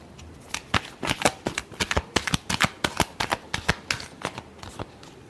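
Tarot cards being shuffled by hand, a quick run of crisp, close riffling snaps in an uneven rhythm, fairly soft, with no talking.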